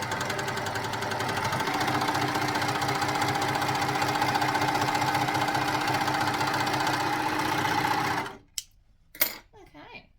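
An overlocker runs in a fast, steady mechanical whir for about eight seconds, then stops abruptly, leaving a few brief clicks and handling noises.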